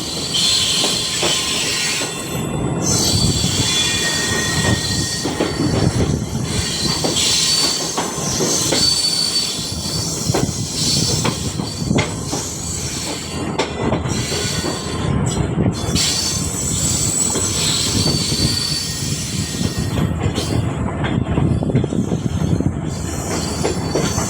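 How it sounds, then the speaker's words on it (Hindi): The Karachi Express rolls out of Khanewal Junction in Pakistan with steady rumbling and high metallic wheel squeals, continuous and loud, with faint clacking of cars over the rails. "कराची एक्सप्रेस डिपार्ट कर रही है खानेवाल से"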